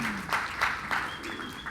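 Audience at a corporate tech conference cheers and applauds in a steady, broad wash with a few louder swells, filling the room without speech on top.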